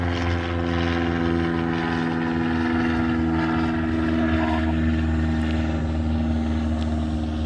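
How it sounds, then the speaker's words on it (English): A propeller airplane drones steadily overhead, passing above a cemetery beside an airport, with a continuous engine hum and no voices. "Sorry about that airplane."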